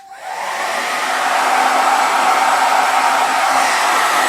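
Budget hair dryer costing under £20, running on its lowest level 1 setting: a steady, loud blowing whoosh of fan and airflow that starts and then holds constant, with no talking.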